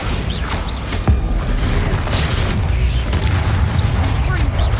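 A loud, rumbling Bombarda explosion spell in the video game Hogwarts Legacy, with a sharp impact near the start and dense booming combat noise sustained throughout, with a voice heard under the din.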